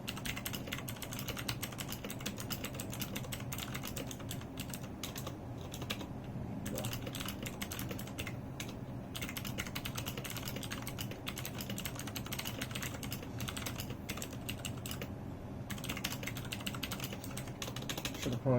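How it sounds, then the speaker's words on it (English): Rapid, continuous clacking of keys on a stock Redragon K552 mechanical keyboard, close and busy, with brief pauses in the typing. "this is a video of my friend's Redragon keyboard before I mod it"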